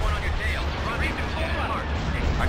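A space station comes under attack in Star Wars: Empire at War, Awakening of the Rebellion mod, with dense rumbling artillery blasts and explosions continuing steadily throughout while a voice talks over the battle.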